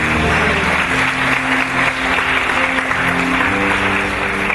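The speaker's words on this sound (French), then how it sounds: "Alors, on peut les applaudir ce matin." Audience applause at a Sunday church service, steady and dense clapping from a large congregation over a low sustained organ or keyboard chord, loud and continuous throughout.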